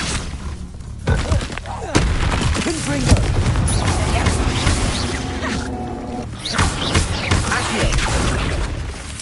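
Spell-casting in the Hogwarts Legacy video game, the Expelliarmus disarming charm, fired as a sharp burst amid dense combat effects, thuds and crashes, loud and continuous with overlapping voices throughout.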